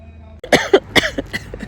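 A person coughs several times in a rapid, hacking burst after a brief quiet moment, loud and close.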